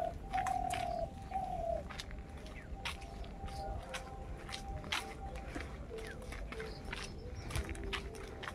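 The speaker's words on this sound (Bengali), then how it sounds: "এক ঝাঁক পাখি উঠতে শুরু করছে আকাশে, কিন্তু কুয়াশার জন্য দেখাই যাচ্ছে না।" Birds on a foggy village morning, with a dove-like cooing call and scattered chirps at moderate distance, plus soft footsteps crunching nearby.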